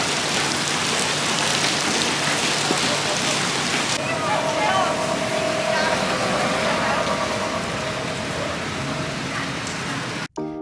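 Steady rain pours down outside a shop entrance, a dense continuous hiss that lightens after a few seconds, with a faint tonal hum underneath and a brief break at the end.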